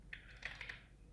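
A few soft keystrokes on a computer keyboard, faint and close, tapped in a short irregular burst of four or five clicks with no voices.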